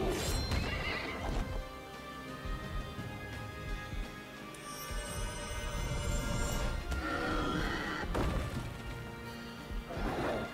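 A horse enemy in the video game Child of Light neighs and gallops amid combat clashes and thuds, with whinnies near the start, the middle and the end over busy battle sounds.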